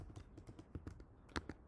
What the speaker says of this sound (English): So first type in here